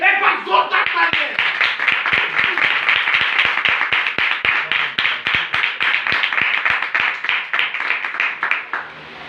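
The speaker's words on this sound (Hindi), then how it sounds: "एक बार जोरदार तालियां" A church congregation at a Christian sermon claps loudly and steadily, a dense run of sharp hand claps that keeps a fast, even rhythm for the whole stretch and fades only slightly at the end.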